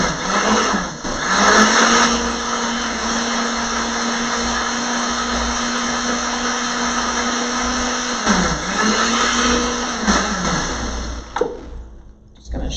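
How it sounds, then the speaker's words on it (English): A kitchen blender whirs steadily, mixing oatmeal pancake batter into a thick mix, loud and continuous with a brief dip in pitch partway through before it runs again and then stops. "we're gonna just blend this just till it mixes and it becomes a nice thick batter"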